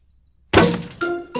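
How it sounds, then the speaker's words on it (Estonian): A ball strikes the glass of a garden greenhouse in a cartoon, giving one sharp, loud thunk with a brief glassy crack and ringing tones after it, then a second impact at the end. "Hei, kes minu kasvuhoone pihta palle loobib?"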